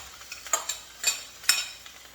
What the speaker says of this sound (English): So we're just stirring this up.